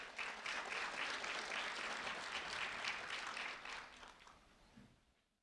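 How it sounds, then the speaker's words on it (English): An audience at a sheriff's office recognition event applauds a student honoree, with sustained, fairly distant clapping from many hands that gradually fades out toward the end. "a round of applause for Mila Georges"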